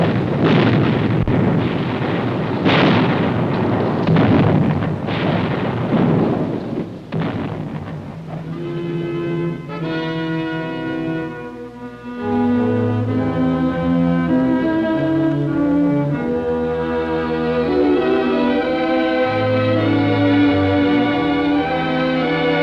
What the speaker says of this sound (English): The arty, tanks, and mortars lay down a barrage that night to bring them out.